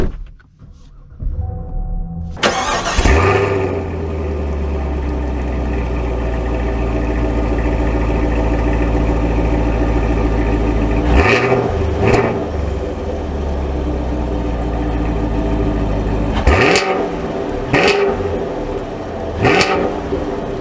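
A 2024 Chevy Camaro SS V8 cranks and fires up loudly, settling into a deep steady rumble that carries on as the car drives, with several sharp throttle blips and surges along the way and no talk.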